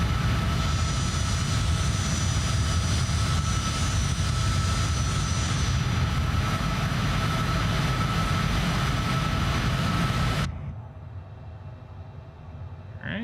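Learjet engines in Microsoft Flight Simulator make a steady, loud jet whine with an even roar that runs continuously, then drops abruptly to a quieter hum near the end.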